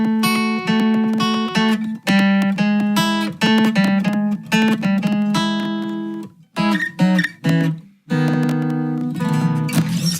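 Opening melody of a country song played solo on a sustained, tonal instrument, in steady phrases with a couple of short pauses, close and fairly loud.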